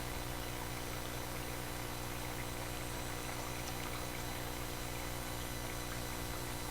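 Garden watering on a cold day after a night frost, water pouring steadily in an even broadband wash, fairly faint and continuous, with no voices.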